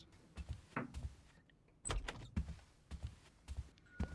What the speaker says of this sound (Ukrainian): Я тільки відкрий двері